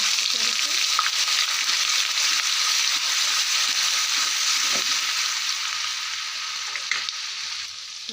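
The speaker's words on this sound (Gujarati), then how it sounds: "રાઈ જીરું કરે એટલે આપણે નાખીશું લસણ ને આદુ અને મિક્સ કરીશું." Mustard seeds, cumin, garlic and ginger frying in hot oil and being stirred, a steady close sizzle holding through the whole stretch with a few faint pops and scrapes and no talking.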